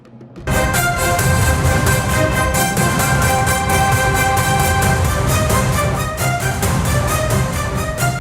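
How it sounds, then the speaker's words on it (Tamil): Dramatic TV breaking news jingle: loud, dense music with sharp rhythmic hits and sustained tones, starting abruptly and running continuously for about eight seconds with no talk. "இந்த பிரேக்கிங் நியூஸ் சத்தத்தை கேளுங்களேன்"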